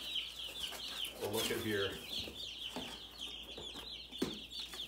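Seventy baby chicks that just arrived by post during a winter ice storm peep in a steady high-pitched chorus, with a voice speaking briefly over them.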